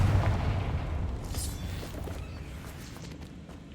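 A Confringo blast spell cast in the Hogwarts Legacy video game, a dull booming burst at the start that fades into a low rumbling tail.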